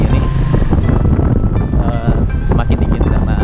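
Heavy wind buffets the microphone while riding pillion on a motorbike taxi through Guangzhou on a cold morning, a loud continuous rumbling roar with gusty fluctuations and a voice talking over it.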